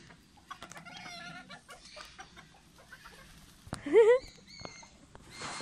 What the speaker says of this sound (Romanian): Niște găini, găini de ornament, găini o pitică